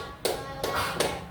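Three crisp group hand claps, evenly spaced and close together, come from children playing a counting clap game during a physical education lesson, with faint background murmur.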